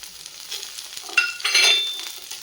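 Peeled garlic stirred into a pan of frying spiced onion mixture for a green chili tamarind dish, a steady close sizzle with brief scraping stirs.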